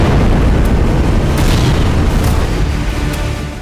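Artillery fire in wartime Kharkiv, Ukraine: a loud, deep, rumbling boom that fills the whole stretch and slowly fades toward the end.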